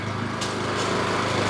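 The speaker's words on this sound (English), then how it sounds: "To activate your Rear-Tine Tiller, you hold on the clutch, you move the gear, then after you put it on the tines," A rear-tine garden tiller's small petrol engine runs steadily nearby, a continuous buzzing drone with a brief louder surge partway through.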